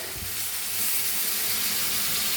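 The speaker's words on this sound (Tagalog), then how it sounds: "Lagyan na natin ng vino blanco. Lagay natin yung vino blanco guys." Liquid hisses into a hot pan of sausages as white wine is poured in, a steady close sizzle and spatter swelling slightly and holding throughout.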